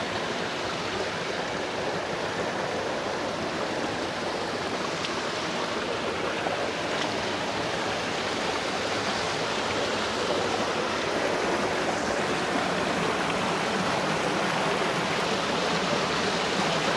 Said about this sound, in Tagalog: Ganda ng daloy ng tubig dito.